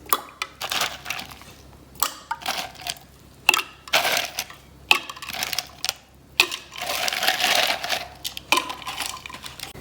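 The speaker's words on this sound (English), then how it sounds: "Now you can put in a few ice cubes." A run of sharp, clattering ice cubes dropping into a cup, several bursts spread out with brief pauses between them, close and fairly loud.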